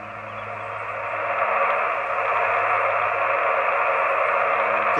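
Ham radio receiver on HF tuned through a CHA P-Loop 2.0 magnetic loop antenna, giving a steady band hiss and static that swells in loudness after the first second and then holds, with faint tonal hum, no talk.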